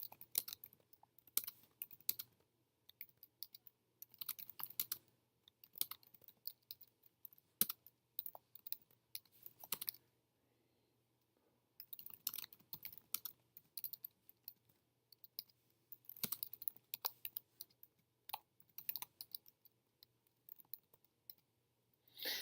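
Someone types on a computer keyboard for a home-brew 6502 computer, with close, quiet bursts of key clicks in uneven runs and a short pause midway.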